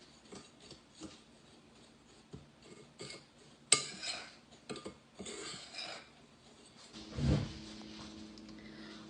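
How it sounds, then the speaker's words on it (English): Dry pie ingredients, including nutmeg and allspice, being mixed together in a bowl, giving light scattered clinks and scrapes of a utensil against the dish with a brief louder clatter partway through. "we're going to mix all of these dry ingredients together"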